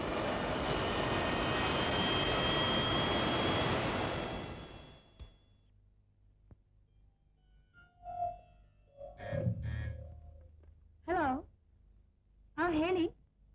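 An aeroplane's engine roars loud and steady for a few seconds, then drops away, and people talk afterwards.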